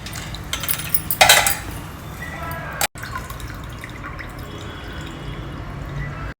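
Water is drained off soaked urad dal to separate the loose peel, giving close dripping and trickling with a short burst of splashing early on, then a quieter, steady drip.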